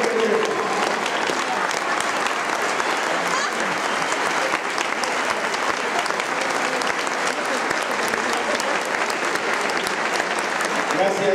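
Sustained, dense standing ovation from a large audience in Neza for the St. Florian Boys' Choir from Austria, steady and loud throughout with crowd noise and some voices mixed into the clapping.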